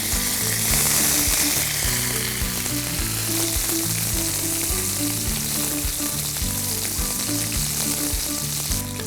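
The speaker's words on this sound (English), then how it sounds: "We'll saute these till the onions start changing color." Sliced onions and curry leaves sauté in hot oil after fennel and fenugreek seeds, giving a loud, continuous sizzle up close with a busy crackle throughout and no speech.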